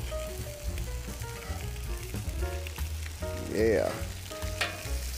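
Vegetables fry on a Camp Chef griddle with a steady close sizzle and the scrape of a spatula rolling them around, and a brief voice is heard.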